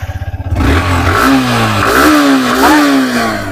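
A black 2021 motorcycle in a bike showroom idles with a quick, even thump, then its engine revs loud and close in several rising and falling surges.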